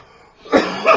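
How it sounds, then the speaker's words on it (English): A person coughs at close range: a quiet lead-in, then two sharp, raspy bursts about a third of a second apart, with no talking over them. "Oh god, I might have to cough too."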